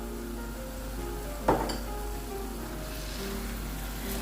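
Grated carrot halwa frying in a pan, a low steady sizzle with one brief clink of a utensil against the pan partway through.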